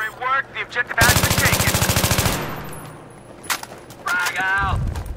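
A close burst of rapid automatic gunfire rattles for over a second in the Battlefield 3 video game, with a few scattered shots after it. Someone talks before and after the burst.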